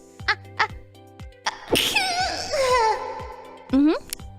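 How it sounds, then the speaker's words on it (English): A short, sharp sneeze bursts out once amid nearby voices, followed by brief throat sounds and murmured talk. "A little sneeze."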